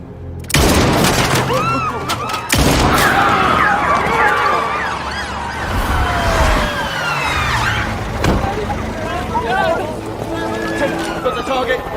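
Unsilenced gunfire in a video game set in a city in chaos: a few sharp, loud shots burst out amid wailing police and ambulance sirens and dense action noise.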